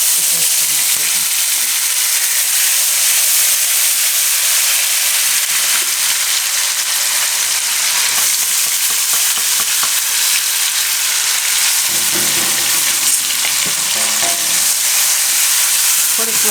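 Ginger, green chilies and garlic fry with whole spices such as cloves, star anise, bay leaf and dried red chili, giving a loud, steady sizzle with occasional stirring clinks for the whole stretch.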